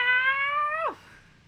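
Cat giving a single sustained meow that holds steady then bends sharply downward at the end, fairly close and alone against quiet background.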